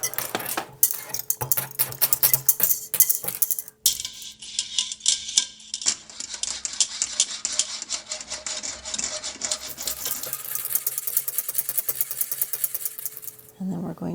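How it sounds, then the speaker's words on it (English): A spoon clinks and scrapes against a cup or pot as cocoa and sugar are stirred together, a run of rapid metallic taps and rubs with brief pauses and faint voice in places. "mix it together."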